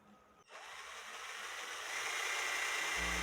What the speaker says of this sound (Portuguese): Eu vou utilizar esta broca achatada para fazer um furo para que possa passar um roliço de 16 milímetros.